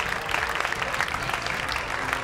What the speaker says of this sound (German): Wenn Sie schon so am Applaudieren sind,